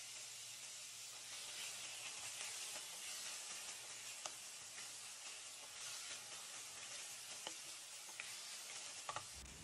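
Tomatoes sautéing in a pan give a steady, fairly quiet sizzle and hiss with a few soft clicks of stirring throughout, during preparation of a Filipino mung bean dish with coconut milk.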